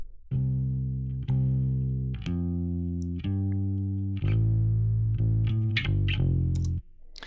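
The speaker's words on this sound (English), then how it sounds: "Just listen to the bass by itself." A distorted electric bass plays alone, a series of sustained low notes changing pitch every second or so, with a slight chorus shimmer.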